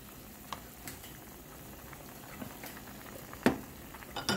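Poa fish curry gravy bubbles and reduces in a pan, a quiet soft simmer with scattered pops and a few louder spits near the end.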